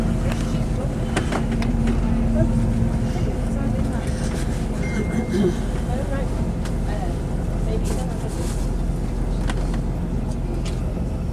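A new TransPennine Nova train on a test run rumbles past as a steady broadband roar, close and continuous, while people speak nearby.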